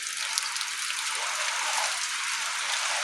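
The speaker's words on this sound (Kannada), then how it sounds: "ಈಗ ಇದೇ ಥರ ಸಣ್ಣ ಮಳೆ" Light rain falling outdoors, a soft, even patter and hiss that holds steady throughout, with no one talking.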